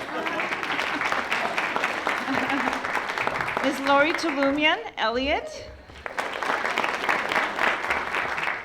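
Audience clapping for school principals at a library presentation, a steady patter of applause that continues while a voice speaks names over it, pausing briefly before resuming.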